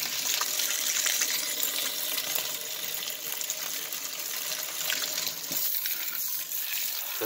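Water runs steadily from a sink tap while moly-coated copper jacketed bullets are rinsed, a constant rushing gush that continues for about seven seconds with no talk.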